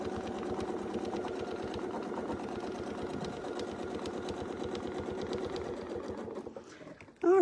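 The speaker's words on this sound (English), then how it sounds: "So we'll just start sewing." A sewing machine stitches fabric for Persian turrets in a fast, even rhythmic chatter, close and steady for most of the clip before slowing and stopping, followed by a brief beep.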